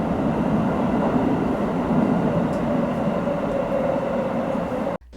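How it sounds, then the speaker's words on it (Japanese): A JR West Special Rapid train pulls into Himeji Station, its terminus, with a loud, steady rumble of wheels and motors that holds throughout and then cuts off abruptly near the end. "8時49分、この新快速の終点姫路駅に到着。"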